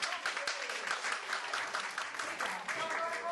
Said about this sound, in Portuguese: uma salva de palmas para os meninos que levantaram